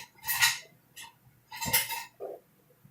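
A wooden spoon scrapes and knocks in a pan while lifting a 43-pound turkey. Two bursts of scraping come close up, with a softer knock between them and a short clunk at the end.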